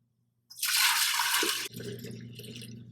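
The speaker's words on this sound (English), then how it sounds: "I take this and I pour it into the canister" Ice cream mixture is poured into a canister, a loud splashing liquid pour starting abruptly and running about a second before dropping to a softer trickling, with a steady low hum behind.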